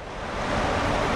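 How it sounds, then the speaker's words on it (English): Loud, steady rushing roar of a waterfall ambience in the Lord of the Rings Online game, a continuous broadband wash with no music or voices audible over it. "this waterfall sounds really loud and you cannot hear the music"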